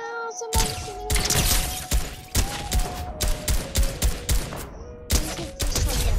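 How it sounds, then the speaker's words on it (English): Rapid bursts of video game gunfire crackle in close, loud volleys with brief gaps between them, during a fortress battle with no talking. "Somebody's shooting me."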